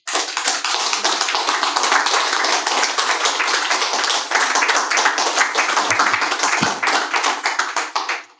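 Continuous hand clapping from a group, a dense burst of claps that stays steady, close and loud throughout.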